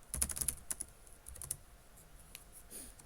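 Fast computer keyboard typing, quick clusters of light key clicks then a few scattered taps, faint and close, with no voices.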